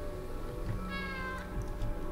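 A cat meows in the video game Stray, one drawn-out plaintive meow set against a steady, full background of game ambience.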